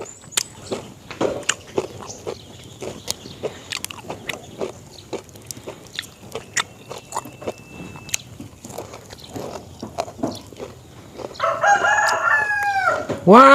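A rooster crows near the end of a rural outdoor scene of scattered clicks and footsteps, the crow loud and close after a quieter stretch of irregular tapping.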